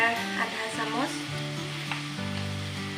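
Chickpea masala with turmeric sizzles in a pan as it is stirred, a soft steady hiss beneath a prominent sustained tonal melody, with no voices.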